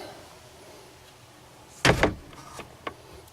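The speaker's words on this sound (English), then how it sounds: "to open the door, you just have to turn the handle just like that" A door latch clicks open as the handle of a Chevy Express 3500 camper van door is turned, followed by a few lighter rattles and knocks, close and fairly loud in a quiet interior.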